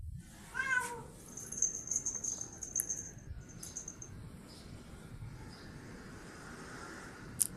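A domestic cat shut indoors meows faintly a few times early on, then quiet room noise with a soft click near the end.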